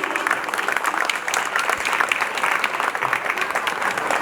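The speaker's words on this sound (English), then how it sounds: "A huge round of applause, please" A crowd at an evening event gives a chief guest a big, sustained round of applause as a bouquet is handed over, with loud, dense clapping that continues steadily throughout.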